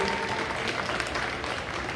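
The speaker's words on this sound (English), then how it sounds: "So let's give them a round of applause." Audience applause at a school winter homecoming event, a steady wash of clapping from a crowd lasting a couple of seconds with no voices over it.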